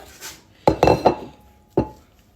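Onions tipped into a cooking pot in a home kitchen, a few sharp metallic clatters and knocks in a quick cluster followed by one more clank, fairly close and without talk.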